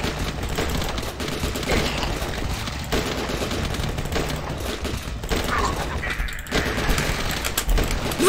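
Hunting rifle gunfire in the video game The Last Stand 2 comes as a dense, continuous barrage of game shots and booms amid loud in-game action that barely lets up.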